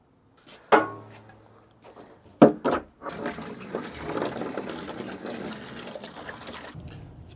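Water gurgles and trickles through the opened valves and hoses of an ice barrel chiller after a few sharp clunks of fittings, settling into a steady close flow.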